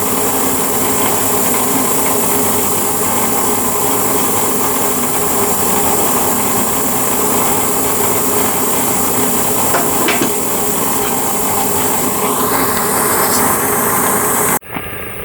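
Welding thin sheet metal on a 1969 Dodge Coronet cowl, a steady, loud, continuous hiss and crackle that holds unbroken for around fifteen seconds before stopping abruptly.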